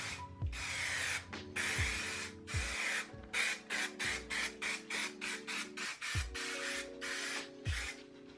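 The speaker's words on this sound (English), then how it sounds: "I use 3M Super 77 and spray 4 light layers from different directions to get even coverage." An aerosol can of 3M Super 77 spray adhesive sprays in repeated short hissing bursts, steady and close, with a brief pause between each spray and a faint rattle underneath.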